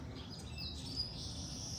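Weaver birds calling in palm trees in the morning while males strip palm fronds for nests, faint high chirps and tweets running over a steady outdoor hiss, no voices.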